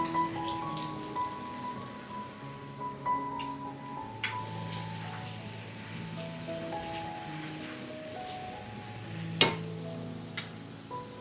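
Spicy garlic chicken sizzling in a pan as sauce goes in, a steady crackling fry with scattered pops and one sharp clatter near the end, no voices.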